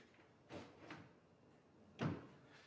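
A cabinet drawer slides on a drawer slide and knocks shut against the face frame, with a couple of soft thumps followed by one firmer close nearby, in a quiet room.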